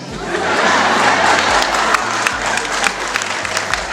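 Audience applause at a comedy night in Cameroon, a loud sustained clapping from a crowd with some cheering, while a low electronic hum pulses underneath.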